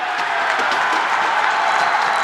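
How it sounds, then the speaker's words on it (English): Dense, loud crowd roar in a hockey arena during a boys' high school game, White Bear Lake against Hill-Murray, after a hard check into the boards, sustained booing and shouting with scattered clapping. "The crowd's not liking it."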